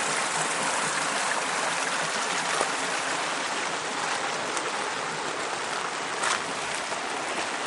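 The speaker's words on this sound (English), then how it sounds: "This is the Wallace River, upriver from my place." The flooding Wallace River rushes steadily, a dense, continuous roar of flowing water heard up close and alone.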